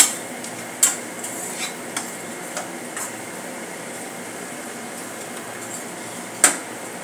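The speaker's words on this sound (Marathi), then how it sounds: "मसाले चांगले भाजून घेऊया।" A spatula scrapes and taps as spices are stirred and roasted in a pan for anda bhurji. The sparse clicks and knocks are faint and sit over a low, steady hiss.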